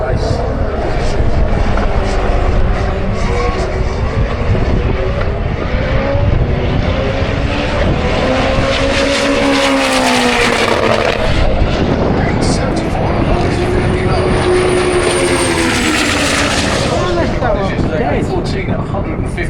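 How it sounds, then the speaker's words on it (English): Drag racing cars launching at Santa Pod, including a little Ford Fiesta, make a loud, sustained engine roar with rising and falling pitch sweeps, and a commentator talks over it throughout. "keep your eyes on both these cars. The little Fiesta Roo with Chris Todd in the Kestra lane."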